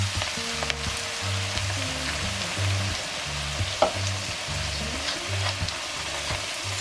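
Garlic and ground masala fry in a pan for a soya chunk pickle, giving a steady close sizzle with occasional stirring scrapes, while a melodic tone pattern runs underneath throughout.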